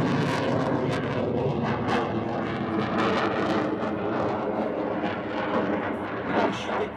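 A Rafale fighter jet roars steadily overhead at the 2017 La Ferté-Alais air show, a loud, sustained broadband rumble with no voices.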